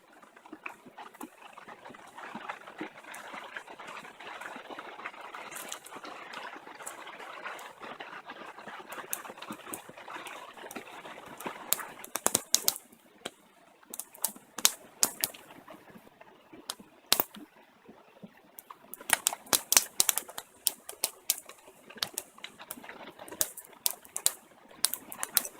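A fatwood campfire with shavings and pencil-sized wood crackling in the deep woods of Canada, first a soft steady hiss, then sharp, irregular pops and snaps close by, with no voices.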